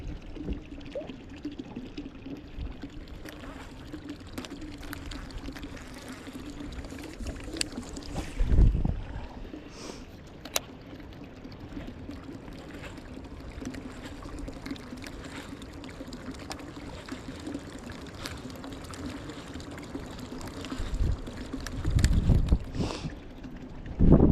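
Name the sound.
water running into boat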